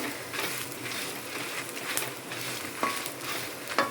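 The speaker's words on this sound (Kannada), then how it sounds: "ಮಸಾಲ ಹುರಿನಾಗ ಟಕ ಟಕ ಟಕ ಅಂತ ಸೌಂಡ್ ಬರೋಡಂಚಂದ ಫ್ರೈ ಆತನಂದ" Masala spices fry in a pan with a continuous hiss of sizzling, sharp little crackles and pops breaking through, and stirring scrapes now and then, all close up.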